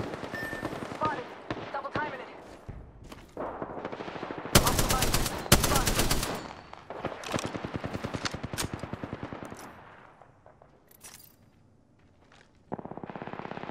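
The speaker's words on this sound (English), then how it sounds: "Taking fire!" Apex Legends battle gunfire: dense bursts of automatic weapon fire and sharp single shots, loud and close, with a very loud volley in the middle, pauses with footsteps and movement, and shooting resuming at the end.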